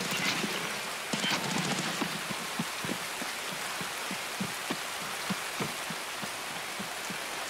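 Steady rain patters in the shooter game Escape From Tarkov, with a dense wash of drops and scattered sharper taps, continuous and fairly close, with no talking.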